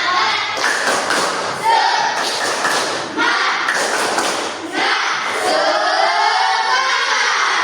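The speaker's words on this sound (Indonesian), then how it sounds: "Ayo kita tepuk semangat dulu" Classroom of children doing a rhythmic clapping chant, bursts of group claps and thumps in a patterned beat with chanting voices, loud and close, pausing briefly between phrases.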